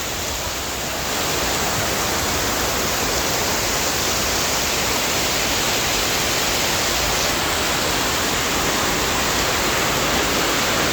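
A downpour of heavy rain in Singapore, near a yard of shipping containers, roars as a dense, even wash of hiss that rises just after the start and stays loud and constant throughout.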